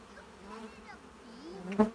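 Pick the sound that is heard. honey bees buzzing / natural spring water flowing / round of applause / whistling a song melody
honey bees buzzing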